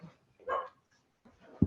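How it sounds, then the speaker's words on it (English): A dog barks indoors in a few short separate yaps with quiet gaps between, fairly close and moderately loud, ending in a sharper low woof. "not my dog barking"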